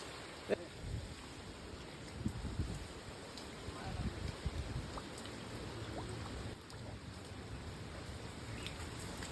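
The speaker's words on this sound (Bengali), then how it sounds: "বাইরা বৃষ্টি কেমন মহাবৃষ্টি মহাবৃষ্টি" Heavy cyclone rain from Cyclone Remal pours steadily with a dense wash of drops and occasional louder splashes, continuous and fairly distant, with no voices.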